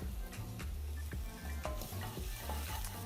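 Garlic stirred into sizzling onions and mushrooms in a pot for green bean casserole; continuous frying hiss with repeated scraping strokes of a utensil, close and steady.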